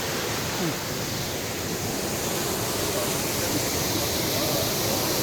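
The swollen, flooding Pambak river rushes in a continuous loud roar of broadband turbulent water, unbroken and close, with no distinct voices.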